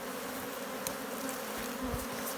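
Honey bees buzz steadily at a natural log or skep-style hive kept in the traditional way, a dense continuous hum close by with a few louder passes, and no talking.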